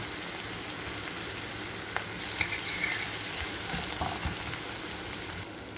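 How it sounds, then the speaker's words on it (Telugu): Onions fry in a pan in a close, steady sizzle with a few faint stirring clicks, and no talking over it. "సో ఫ్రై అవుతున్నాయండి ఆనియన్స్."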